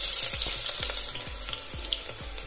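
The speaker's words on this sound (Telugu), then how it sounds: "ఆయిల్ వేడెక్కిందండి। ఇప్పుడు పోపు దినుసులు వేసుకుందాము।" Cumin and mustard seeds crackling in hot oil, a steady loud sizzle with repeated sharp pops scattered throughout, close up with no talking.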